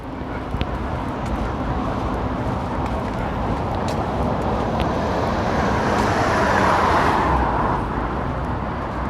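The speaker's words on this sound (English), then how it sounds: "I apologise for the traffic noise" Steady, loud road traffic rushes past near a new tram bridge and station, a continuous broadband roar with passing vehicles swelling and fading and no one speaking.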